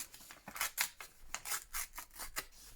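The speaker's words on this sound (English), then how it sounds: "So I'm going to tear round this stamped area" Paper, stained with coffee dye, is torn by hand around a stamped area in a series of short, soft rasping rips at an irregular rhythm, quiet and close, with no talk.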